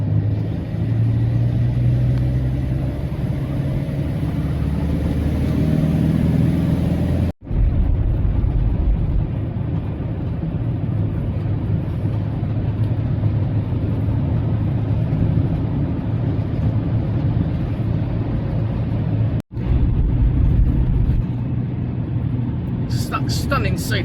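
A car drives along a mountain road just past roadworks, its steady engine and road rumble running throughout, with two brief dropouts, while people talk over it.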